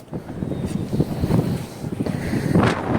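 Wind gusts across open water at a scenic outdoor spot, a steady rushing roar with buffeting on the microphone that swells and eases throughout, with faint low voices underneath.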